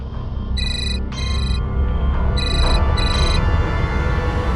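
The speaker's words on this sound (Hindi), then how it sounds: "अरे फोन उठाकर बात कर लो ना पहले" An electronic telephone ringtone plays in repeated bright, chiming bursts, four short rings in a row, over a low, steady background rumble.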